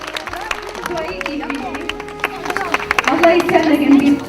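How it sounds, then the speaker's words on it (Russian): A small crowd at a Moscow City Day street celebration claps, building toward the end into a fuller burst of applause, with scattered voices murmuring underneath. "Все хлопаем, аплодисменты."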